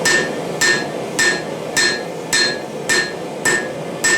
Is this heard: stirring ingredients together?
no